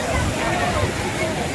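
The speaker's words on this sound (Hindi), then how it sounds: "यहाँ से पानी बहता हुआ नीचे जा रहा है" Water pours down steadily at the Ban Ganga bathing ghat, a constant loud rushing wash with indistinct voices of nearby bathers blended into it.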